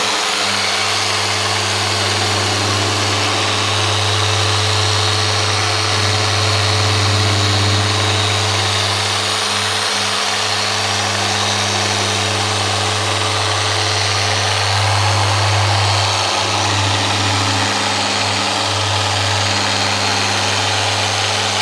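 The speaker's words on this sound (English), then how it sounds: "Not too much pressure, letting the polisher just do its thing with the Jeff car and let it correct itself." A car polisher runs paint correction on a 2022 Ford F-150 Platinum, giving a loud, constant motor hum close by. The pitch and intensity swell briefly at a few points as pressure or speed changes.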